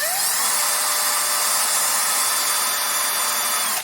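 Test motor spinning noisily under a PeakTech P 2790 tachometer, running slower than it should: a steady, close, continuous whine with a rough buzzing edge, loud and unbroken for several seconds.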